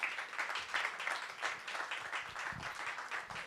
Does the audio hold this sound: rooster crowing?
no